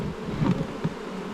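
Honeybees buzz around an agitated hive during an inspection, a close, continuous drone with a couple of louder passes as individual bees fly near.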